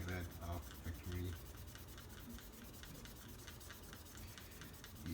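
A magic eraser rubs stains off a plastic anime figure in quick, close back-and-forth scrubbing strokes that run steadily with no talking.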